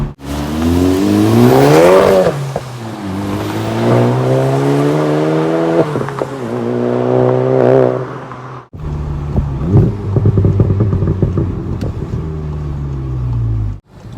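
A tuned VW Golf GTI Rabbit Edition (Mark 7) with a Borla S-type catback exhaust and intake upgrade revs hard several times, loud and close, rising and falling with a brief cut before more throttle blips.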